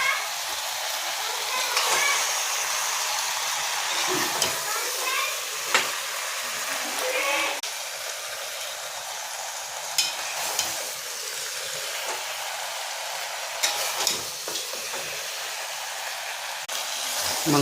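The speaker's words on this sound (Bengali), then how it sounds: "মাংসটা কষা হচ্ছে," Meat being sautéed and stirred in a pan, a steady loud sizzle with scattered scraping knocks as it is turned, continuing unbroken.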